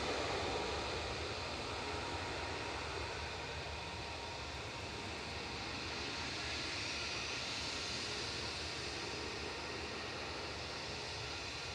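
A Tui airliner departing Manchester Airport gives a loud, broad, continuous jet roar that holds steady throughout, heard from the spotting area with no voices.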